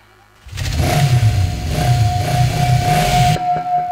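A vehicle engine fired by its self-starter catches and runs, loud and steady at close range after a brief quiet start, then cuts off near the end; faint voices sit underneath.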